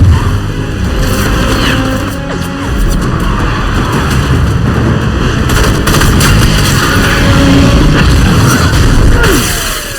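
Rapid gunshots strike a motorcycle during an action-film escape from a bar, with loud sustained bursts, booms and engine roar running continuously throughout.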